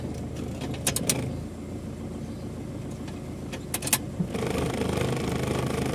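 KIA Carnival diesel engine idling steadily, with a low rumble that dips slightly when the transmission is shifted into drive or reverse, plus a few brief clicks and metallic jingles.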